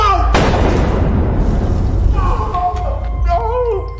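A single loud gunshot in a film, a sharp crack followed by a long booming decay, with tonal music and sound effects rising over the tail.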